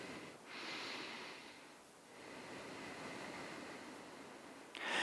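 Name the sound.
slow breathing during a yoga balance pose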